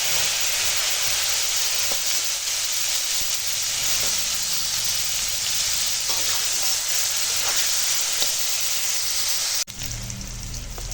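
Bitter gourd frying in a pan for Bengali shukto gives a steady, close, loud sizzle and hiss with no talk, dipping abruptly near the end as the sizzle changes.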